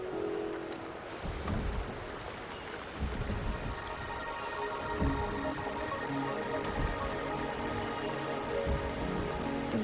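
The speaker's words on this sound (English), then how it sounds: "The rain is subsiding," Steady rain falls in the Wuthering Waves game world, a dense, even patter that holds throughout. A low rumble rolls underneath, like distant thunder, with no voices.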